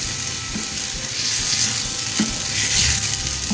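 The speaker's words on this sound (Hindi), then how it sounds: "चिकन को हम ऑयल में डाल देंगे।" Chicken pieces frying in hot oil in a pan, a loud, steady close sizzle and crackle running throughout, with occasional faint stirring knocks.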